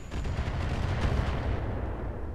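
A mortar turret fires in the BattleTech mod Roguetech, giving a loud, continuous rumbling barrage of booming impacts that rolls on without a break and with no voices.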